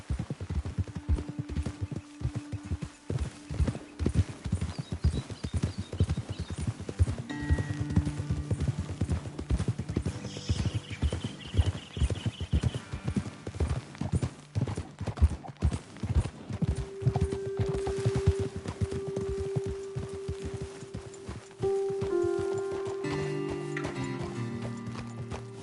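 Horse hooves clip-clopping in the Western video game Red Dead Redemption 2, a steady rhythmic run of hoof beats with an occasional whinny and a musical score underneath, easing off near the end.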